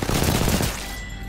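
Rapid automatic gunfire in the video game Apex Legends, a loud dense burst of overlapping shots that tapers off near the end, with no voices over it.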